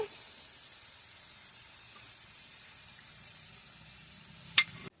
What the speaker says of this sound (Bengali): এই যে এভাবে আমি অন্য ফ্রাইসগুলোও ভেজে নেব